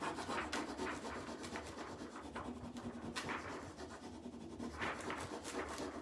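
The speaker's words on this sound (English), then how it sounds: "I'm constantly rubbing the top sheet as I go." Steady rubbing of a transfer sheet being pressed down onto a surface by hand, a continuous close-up scratchy friction with repeated strokes and no talk.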